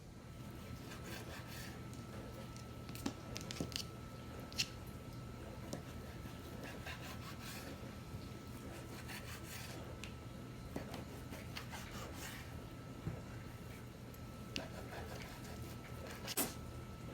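A knife cutting bacon into pieces on a board, quiet steady rubbing and sawing strokes with occasional soft taps of the blade, faint and close, no talk.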